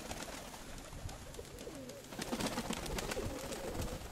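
Pigeons at a pigeon keeper's loft, a soft cooing and fluttery bird murmur that carries steadily through the whole stretch, with the general noise swelling slightly louder toward the end against a busy outdoor background.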